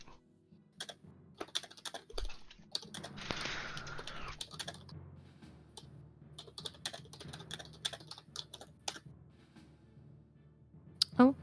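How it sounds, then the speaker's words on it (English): Soft keystrokes tap on a computer keyboard in irregular bursts and pauses, quiet and close, with a brief rustle partway through during a tabletop roleplaying game session. "I'm typing it."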